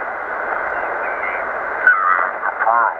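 Receiver audio from a compact TIA ham radio transceiver in southern Indiana, a steady band of hissy, narrowband sound with a wavering tone and brief warbling sweeps near the end, at moderate level with no clear talk.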